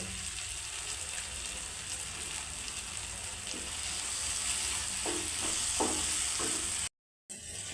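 Chopped tomato fries in hot oil for a dried prawn curry, a steady close sizzle with a few soft stirring scrapes, broken by a brief dropout near the end.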